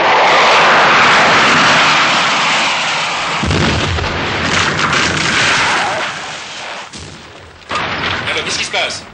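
A jet fighter crashes and explodes on an airfield runway, its wreckage scattering along the strip: a loud, sustained roaring blast that rumbles on, thins out, then surges again in a second burst near the end.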